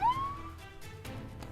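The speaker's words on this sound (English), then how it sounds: "Oh, thank God the ambulance is here." An ambulance siren sounds briefly, a rising wail at the start that fades quickly beneath a low rumbling background.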